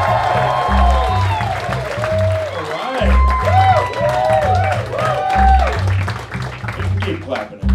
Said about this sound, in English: Keep clapping if you want.